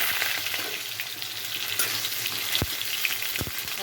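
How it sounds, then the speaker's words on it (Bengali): Potatoes frying in a pan of hot oil with steady broadband sizzling throughout, a few sharper pops and stirring clatters near the end, close and continuous with no talk. "আলুগুলো খুব ভালো করে ভেজে নেব।"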